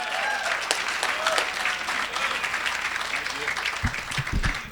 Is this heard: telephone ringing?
no